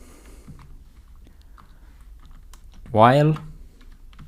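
Someone types on a computer keyboard while coding a note app, producing soft, scattered key clicks at a steady moderate pace, with a brief spoken word over the taps.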